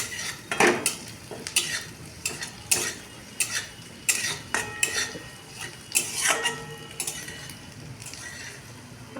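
Spice paste with ginger stirred in a pan, a spoon knocking and scraping against the metal in uneven bursts over a faint background sizzle, close by with no talking.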